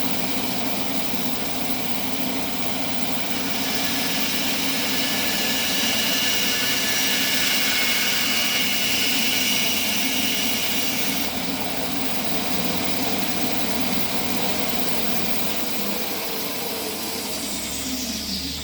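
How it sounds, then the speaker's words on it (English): A bandsaw cuts through bone for bone turning, giving a steady, loud whirring drone that holds unbroken throughout with no talking. "If I take this here and set my bandsaw up, there we go. I'm going to cut the bone down."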